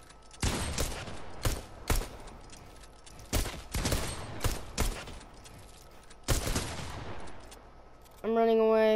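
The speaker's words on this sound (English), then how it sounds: "He's shooting me!" Enemy gunfire in a video game crackles in a series of sharp bursts and single shots separated by short gaps, moderately loud, and a voice cries out briefly at the very end.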